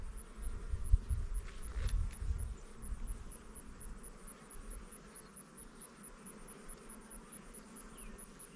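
Honey bees buzz angrily around an opened hive during robbing, a dense, steady insect drone that fills the air, louder and rumbling at first before settling into a constant hum.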